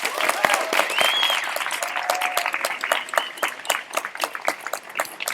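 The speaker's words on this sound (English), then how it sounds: "so please a big hand of applause to Patrick" A farewell ceremony audience applauds Patrick, with dense, sustained clapping from a crowd filling the space and continuing steadily throughout, with some voices and cheers mixed in.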